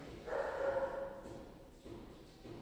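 A dog barks in a drawn-out, whining yelp near the start, then gives a couple of fainter barks over a noisy room background.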